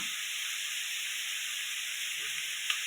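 Beans, carrots, onion, peas, tomato and chilli frying in a kadai for fried rice, giving a steady, even sizzling hiss close by with no talk.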